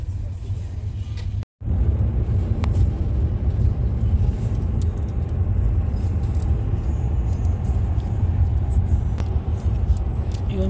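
Steady road traffic rumbles near a jam in Villefranche-sur-Mer, France, with engines idling and rolling, faint air-brake hisses and a brief dropout, while people talk over it.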